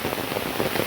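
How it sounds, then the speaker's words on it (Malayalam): Heavy rain pours steadily on an oil palm plantation, a dense, even hiss of drops striking leaves and ground, moderately loud and continuous with no voices. "തകർത്തെന്ന് വെച്ചാൽ അന്യായ മഴ"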